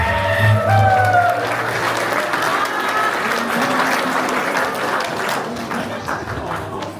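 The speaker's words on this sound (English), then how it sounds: "With a round of applause to our newlywed couple" Guests at a Samoan gospel show give a round of applause for a newlywed couple, a loud, sustained wash of clapping and crowd noise that follows a fading musical chord.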